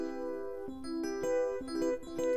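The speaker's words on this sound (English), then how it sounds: "The one sound that we haven't mentioned yet is the Beauty Rhodes" Beauty Rhodes electric piano patch from a Roland SRJV 8003 expansion board, a few glassy, bell-like chords struck one after another, moderately soft and heard alone.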